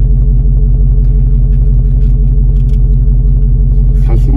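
Dodge Challenger Hellcat engine droning loud and close inside a tunnel, a heavy steady rumble heard from within the car, with a brief rising rev near the end.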